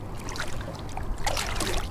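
A fishing boat shifts position on the water off Helvick Head, Ireland, while out pollock fishing. Steady broadband wash and splashing hold throughout, with gentle surges of water noise and no speech.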